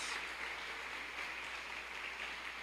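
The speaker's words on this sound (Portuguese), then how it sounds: "Vamos aplaudir Jesus então." Church congregation applauding during a Portuguese-language worship service about baptism in the Holy Spirit, steady faint clapping heard from a distance with no talk over it.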